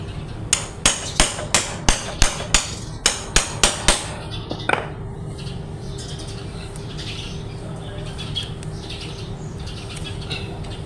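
About a dozen sharp hammer blows drive a pump gear into place on a Honda Wave 100 motorcycle in a steady rhythm, then stop, leaving a quiet background hum with faint distant chirps.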